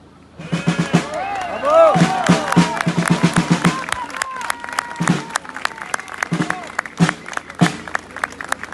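At a Les Patriotes rally, the crowd applauds loudly for a speaker. Dense clapping is mixed with shouts and cheers, and sharp individual claps continue as it tapers.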